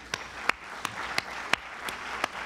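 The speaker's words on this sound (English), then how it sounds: "Give yourself a round of applause." Sparse, slow clapping from a few people at a chamber of commerce annual membership meeting, about seven distinct claps spaced evenly over a couple of seconds against a quiet room.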